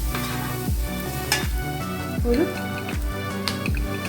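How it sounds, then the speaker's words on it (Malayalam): Coriander powder is stirred in a pan for a duck mappas curry, with a steady background hum and repeated scraping strokes of the spoon roughly every second, moderately loud and without talk. "ടേബിൾ സ്പൂൺ മല്ലിപ്പൊടി ചേർത്ത് കൊടുത്തു. ഞാൻ ഇളക്കുകയാണ്."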